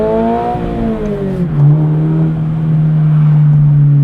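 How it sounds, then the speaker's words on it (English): A manual-transmission car pulls away hard from a stop after a quick clutch release, the engine revving up loudly and holding a steady high drone as it accelerates, close and continuous for about four seconds. "rev it out."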